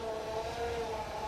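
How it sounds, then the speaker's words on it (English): Land Rover Defender power steering whining on full lock while driving slowly off-road, a steady, faint whir with a droning engine note underneath. "The noise that you can hear as you're picking up is just the power steering."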